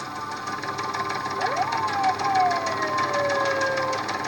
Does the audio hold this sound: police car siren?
yes